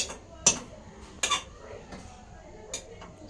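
A pot of cooked rice, with tomatoes and potatoes boiled in it, being lifted off a stove, with sharp metallic clanks of pot and lid and a few softer knocks spread apart in a quiet kitchen.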